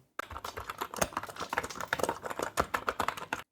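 Rapid typing on a mechanical keyboard fitted with Midnight switches in an inexpensive housing, a steady run of close, crisp key clacks with no talking.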